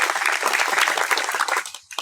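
An audience at a community gathering breaks into dense, continuous clapping close by that fades out in the final moments.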